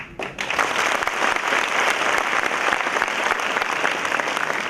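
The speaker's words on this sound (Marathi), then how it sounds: "हे आपण टाळ्या वाजवल्या सगळं झालं" Sustained, dense applause fills a hall as an audience claps for a speaker at a motivational event featuring MPSC toppers, steady and loud for the whole stretch after a brief quieter start.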